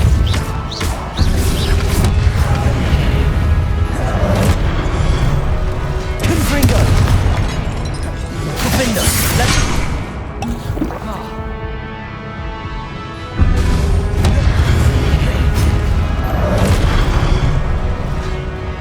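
Spell explosions in Hogwarts Legacy as Confringo and Convulso are cast, loud booming blasts and crashing impacts that pile up in dense bursts under continuous game audio, with a brief quieter gap midway.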